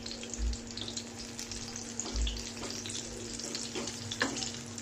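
Ridge gourd bhaji frying in hot oil with a soft, steady sizzle. Occasional low thumps and light clinks sound as pieces are turned over, with no talk.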